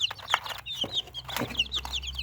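Broiler, Brahma and ordinary chicks cluck and peep in quick, irregular bursts close by, a busy, fairly loud chatter with no voices.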